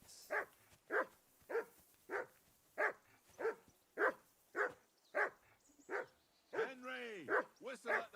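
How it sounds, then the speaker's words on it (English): Dog barking in the medieval game Kingdom Come: Deliverance 2: a steady run of about a dozen evenly spaced, loud barks, close by, with a voice speaking near the end. "whistle at that mutt of yours to stop barking"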